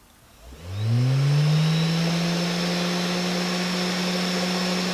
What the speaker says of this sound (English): So maybe you'll be able to hear that motor when it turns on.